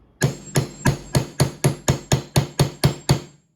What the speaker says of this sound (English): I usually use a bigger hammer, but I got the little 1-pounder right now.